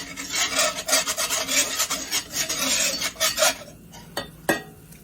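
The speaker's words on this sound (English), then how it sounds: "grab my whisk, okay? It's going to make some noise" Metal whisk scraping rapidly around a clad pan while making gravy, a loud close rasping that stops after a few seconds, leaving a couple of light knocks.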